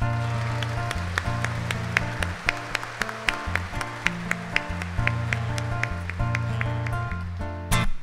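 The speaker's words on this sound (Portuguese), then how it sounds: "Uma salva de palmas." Congregation applause at the close of a televised Mass for Saint Jude Thaddeus, sparse distinct claps spread across the stretch over sustained organ-like chords, with one sharp louder clap near the end.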